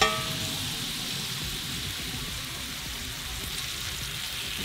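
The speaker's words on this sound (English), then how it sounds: "now we go in with the heavy cream" Heavy cream poured into a hot pan of sausage Alfredo sauce sizzles in a steady, close hiss that fades slightly from its first burst, with no talking over it.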